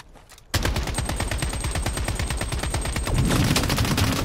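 Automatic gunfire in the shooter Project: BloodStrike rattles in a long rapid burst that starts abruptly and runs without a break, loud and close, growing heavier toward the end.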